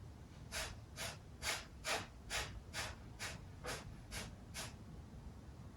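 Yoga breath of fire style breathing: ten short, sharp nasal exhales in a steady rhythm, each a crisp burst of breath, close and fairly quiet, with no talking.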